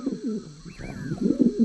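A cartoon crow's voice imitates a pigeon's coo, a short, close, warbling coo lasting under two seconds.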